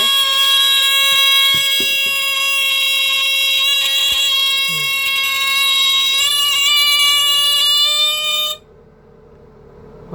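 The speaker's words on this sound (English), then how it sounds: "That's the hairdryer test of the Detexall Fire Alarm." A Detexall smoke alarm set off by hot air from a hair dryer shrills loud and close with a steady, piercing electronic tone for about eight seconds, then cuts out abruptly and leaves quiet room noise.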